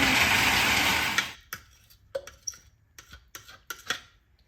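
A blender purees ingredients for cornbread dressing in a home kitchen. It roars loudly for about a second, then cuts off, followed by scattered light clicks and taps.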